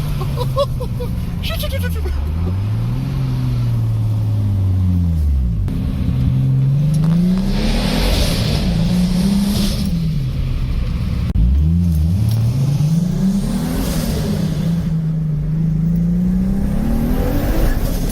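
A BMW E30 fitted with a turbo conversion running 1 bar of boost accelerates hard, the engine note climbing through the revs, dropping at each gear change and climbing again, loud and close for the whole run.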